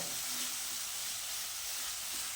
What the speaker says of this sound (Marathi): मसाला या कांद्याबरोबर अगदी व्यवस्थित भाजून घ्या